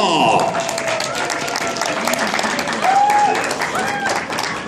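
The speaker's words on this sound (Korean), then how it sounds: "박수 주세요" Audience clapping for a singer at a trot album launch event in Dongtan, a dense sustained round of applause with a few tonal voices or music traces cutting through.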